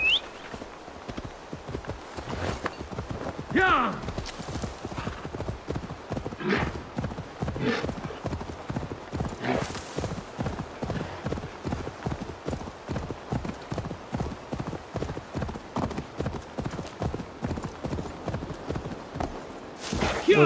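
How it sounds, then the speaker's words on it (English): Steady, rapid clip-clop of a horse's hooves galloping in the video game Assassin's Creed Valhalla, with an occasional whinny, running continuously and close under a single brief spoken word. "We'll just take the horse."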